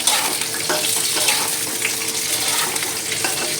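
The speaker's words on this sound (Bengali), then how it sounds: "পটলগুলোকে ভালোভাবে এরকম করে ভেজে নেব" Pieces of pointed gourd (potol) frying in oil give a steady, dense crackling sizzle with small bursts, close by and without talk.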